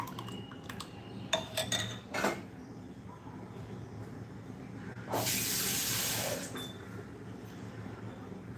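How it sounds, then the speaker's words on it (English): A few light clinks and taps come first, then water pours briefly from a tap for about a second into onion rava dosa batter before it stops. The room is quiet and nobody speaks. "So I'm adding in more water."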